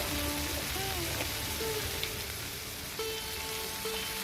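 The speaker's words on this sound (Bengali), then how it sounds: "এবার পেঁয়াজ আর টমেটোটা ভালো করে একটু ভেজে নেব" Onion and tomato frying in a pan for matar paneer, a steady soft sizzle and crackle that runs throughout at moderate distance, with faint scattered tones over it.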